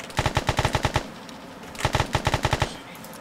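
Automatic gunfire in DayZ, a heavy machine gun such as an M249 firing two rapid bursts of about eight shots each, loud and close, separated by a short pause.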